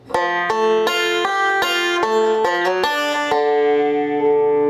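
A banjo rings out a quick rolling pattern of bright picked notes, moving through a few chords before settling on a sustained final chord.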